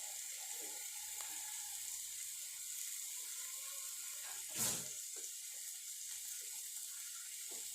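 Water poured into a simmering curry to make gravy gives a brief splashing gush midway over a low, steady sizzle from the pot.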